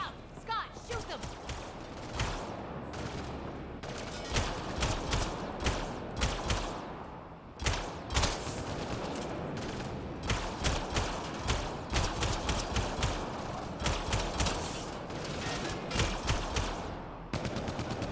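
Repeated bursts of gunfire in the video game Mass Effect Andromeda, sharp shots and rattling volleys recurring throughout a loud combat scene, with people talking over the shooting.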